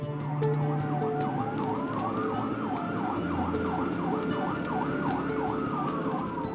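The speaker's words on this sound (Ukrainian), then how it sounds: "Це керує сиреною. Мушу людей попереджувати, щоб бачили." A volunteer's vehicle siren wails continuously in a steady, loud rising-and-falling pattern, heard from close range with road noise underneath and no talking.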